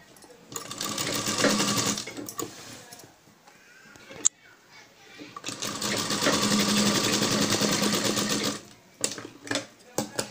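A sewing machine runs in two long bursts, stitching the evenly layered ruffles of a dhoti dress, with a brief pause between runs and a few short clicks at the end; no one talks.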